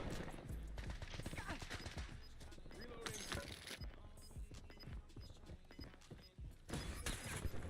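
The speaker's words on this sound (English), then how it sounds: "Somebody just sniped at me." Sniper fire rings out in a battle-royale shooter game, a few quiet, distant cracks and thuds among muffled game noise and a voice talking over the action.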